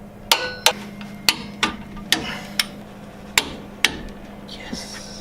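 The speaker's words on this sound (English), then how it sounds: "I am applying 37 pound-feet of torque to the upper bolts, 57 pound-feet of torque to this lower bolt" Sharp metallic clicks from a torque wrench tightening shock absorber bolts on a Jeep, eight or nine distinct snaps spaced irregularly over a steady low hum, close and fairly loud.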